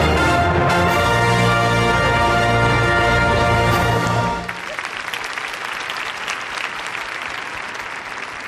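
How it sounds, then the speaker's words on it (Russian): Crowd applause at the final of a music contest's award ceremony, rising as loud, sustained clapping after stage music cuts off midway. "Громче, громче аплодисменты"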